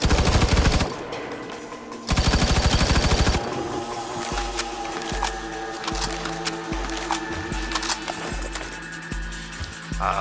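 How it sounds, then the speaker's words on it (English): Machine gun fire from the FireFall video game rattles out in rapid loud bursts, with dense volleys at the start and then a run of evenly spaced shots continuing to the end. "If you hit Q, it goes to my machine gun."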